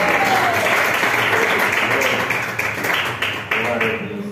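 A church congregation applauds through a worship service, with dense, steady clapping filling the room at close range and voices mixed in underneath.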